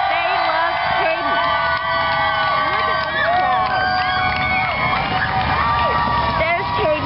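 A large crowd cheers, whoops and shouts excitedly at the arrival of Cayden Hubbard in a limo with a security motorcade, with children's voices mixed into a loud, continuous, band-limited roar.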